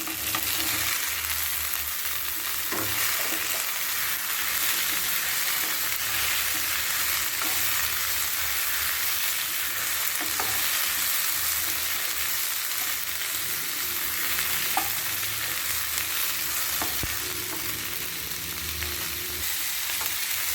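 Mushrooms sizzle steadily in a hot pan for a mushroom capsicum gravy, a dense continuous frying hiss with occasional scrapes and clicks of stirring throughout, close and fairly loud with no talking.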